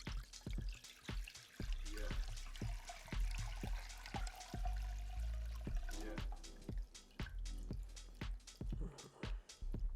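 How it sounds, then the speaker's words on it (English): Mezcal infused with dates strained slowly through a sieve and nut milk bag, giving a run of close, irregular drips and splashes with a steady liquid trickle for about ten seconds. "Gonna grab the sieve and the nut milk bag, and we're gonna pour it in slowly."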